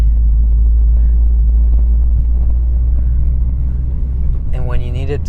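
Honda Civic Type R FD2 engine rumbling loud and steady while driving, with a rising rev whine climbing near the end.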